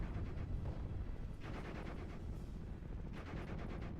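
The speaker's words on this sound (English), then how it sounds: "Okay, those guys are firing." Distant battlefield gunfire in Steel Division Normandy 44, including heavy guns: low, muffled rumbling and bursts of firing at a fairly quiet level, with no talk over them.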